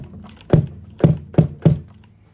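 Four deep, resonant thumps struck on a SmackPac tom drum fitted with a silicone bowl lid and a cajon port. The hits are close and loud, spaced unevenly over about two seconds, with no one talking.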